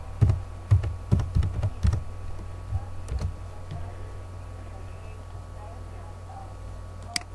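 Someone types text into a spreadsheet on a computer keyboard, with a quick burst of close key clicks at the start, a few more taps later, then a quiet stretch of faint room hum.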